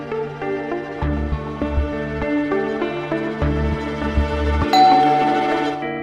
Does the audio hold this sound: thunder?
no